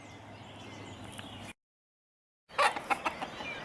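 Chickens at a holiday park in Murchison, New Zealand: a soft background murmur, a second of silence, then several short, close clucks in a quick irregular burst.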